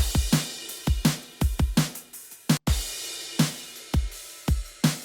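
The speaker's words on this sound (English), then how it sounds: "What I also like doing is having these acoustic cymbal loops in the stereo." A loose acoustic drum loop with sharp hits and ringing cymbal crashes, each decaying quickly, in a syncopated repeating pattern with one brief gap.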